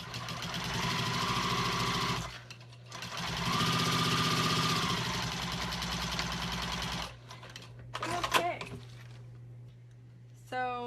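Juki 2000 QI sewing machine stitching in loud, steady runs with brief pauses between, a faint hum underneath and a short burst of voice near the end.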